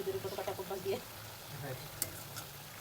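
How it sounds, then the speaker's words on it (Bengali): Eggplant fritters (beguni) coated in homemade gram flour batter fry in hot oil with a steady, close sizzle, plus occasional stirring scrapes and a faint voice underneath early on. "আমার বাসায় তৈরি বেসন দিয়ে আমি বেগুনি ভাজছি।"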